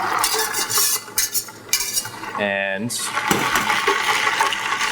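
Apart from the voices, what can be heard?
hot brine poured over ice and whisked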